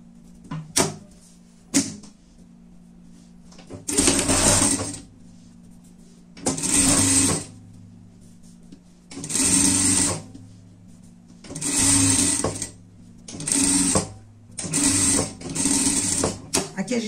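A sewing machine pre-stitches a fabric pet cover in a series of loud, whirring bursts of one to two seconds, separated by short pauses and a few isolated clicks, over a steady low hum.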